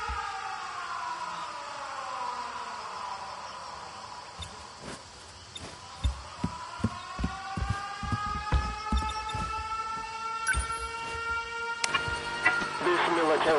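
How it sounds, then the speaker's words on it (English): Air raid alarm sirens wail in long, slowly bending tones that dip and then rise again. A scattering of sharp clicks and taps comes through from the midpoint onward. "Air raid alarms have been sounded."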